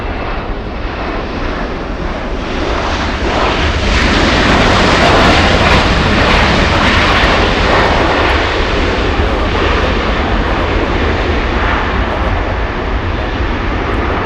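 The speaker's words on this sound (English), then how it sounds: "We have Delta Airlines 757." A Delta Airlines Boeing 757 jet airliner, inbound from Detroit at Los Angeles LAX, roars loudly and steadily, its broadband engine noise swelling slightly midway and holding strong for the whole stretch with no voices.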